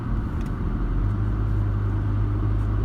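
Car with Falken HS449 snow tyres pulling away in second gear on a steep snowy hill, a steady low engine rumble with little revving, close and continuous, no talking.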